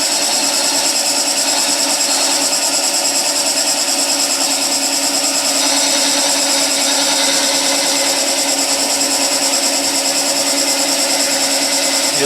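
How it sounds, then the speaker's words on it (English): A skew chisel makes a planing cut on spinning wood on a wood lathe, giving a steady, loud, unbroken whir and hiss of cutting with no pauses, close to the listener. "So I'm going to make a planing cut going that way so we can see this a little bit better."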